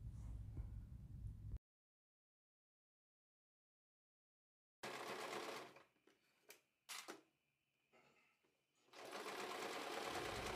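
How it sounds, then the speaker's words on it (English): Sewing machine stitching a half-inch seam on tapestry blanket fabric for pants, its steady mechanical whir running in bursts with a long silent gap and a few sharp knocks between runs. "And you want to sew this at a half an inch as well."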